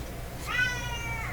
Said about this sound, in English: there's my cat Shadow, anxious to go out